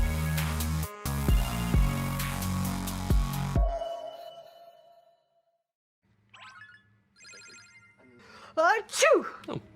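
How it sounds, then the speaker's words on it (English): A cartoonish sneeze in a Mario Kart Tour review episode, following bright ringing tones and a near-silent gap, with a short voiced burst near the end. "Achoo! Oh, bless you."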